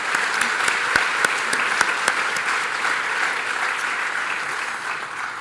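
Steady applause from a sizable university audience at a State of the University address, dense clapping at an even level throughout with a few sharper claps standing out.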